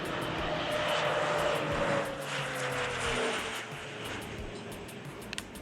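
A crop-dusting airplane flies over a banana plantation, its engine drone steady and fairly loud before slowly fading as it moves away, with no talk.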